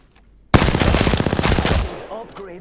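Automatic gunfire from a weapon in the shooter game Apex Legends: a loud, close, rapid burst of evenly spaced shots lasting over a second, then fading into a tail with a faint voice after.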